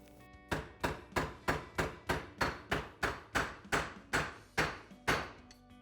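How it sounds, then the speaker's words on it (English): Steady series of about fourteen sharp metallic hammer blows driving a greased axle bearing seal into the carrier of a sport ATV, evenly spaced and close, each ringing briefly before the next strike. "Now you'll know that you've driven your bearing all the way in when you hear a change of pitch as you're driving it in"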